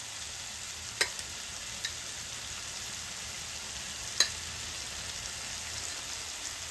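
Chopped ridge gourd frying in oil with crushed peanuts, a soft continuous sizzle with a few sharp utensil taps against the pan, fairly quiet and close.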